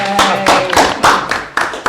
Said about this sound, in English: Give us a clap.